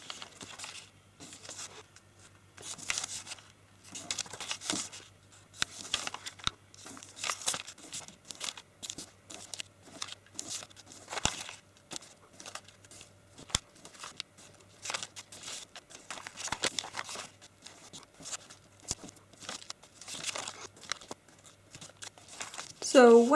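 Paper is folded into an origami triangle grid, heard as a steady run of close crinkling, creasing and rustling with small taps and no pauses in the handling.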